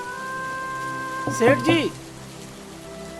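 Steady rain falls around a large house, a soft continuous wash beneath sustained musical tones, with a short burst of speech in the middle.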